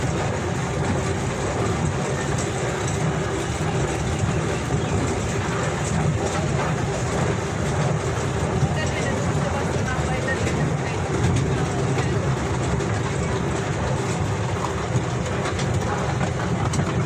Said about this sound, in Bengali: এই ট্রেন ছেড়ে দিছে। আমরা এখন বর্তমানে ট্রেনের মাঝে আছি।